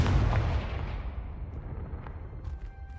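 A Confringo spell explodes against a pile of rubble in Hogwarts Legacy, starting as a loud, heavy blast that decays into a long rumbling tail, with a few faint clinks near the end.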